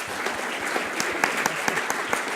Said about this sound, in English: Big round of applause for this team.